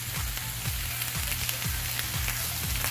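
Sausage and peppers sizzle loudly in a pan while being stirred, with a constant close frying hiss and a regular rhythm of spatula scrapes roughly every half second, no voices.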